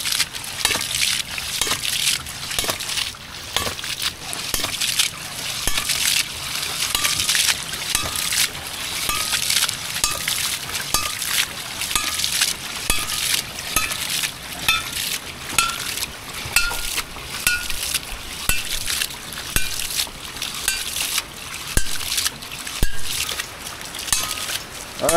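Water rushes steadily through a homemade ram pump built from a fire extinguisher tank with its outlet valve fully open, giving a continuous loud hissing, splashing flow with faint rhythmic knocks and no talk.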